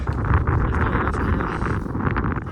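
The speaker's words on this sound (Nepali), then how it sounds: "अहिले चाहिँ एकदम हावा चलिरहेछ" Strong, cold wind in Dhorpatan, Nepal, buffets the microphone in a continuous low rumble with gusty surges, loud and close throughout.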